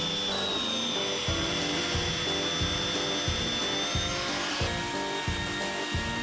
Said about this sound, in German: Die Aussparungen zum Greifen habe ich mit einem Dosenbohrer gebohrt